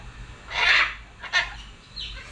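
Chickens cluck and squawk close by: one loud, drawn-out squawk, a short sharp cluck, and a fainter call at the end, over a low background hum.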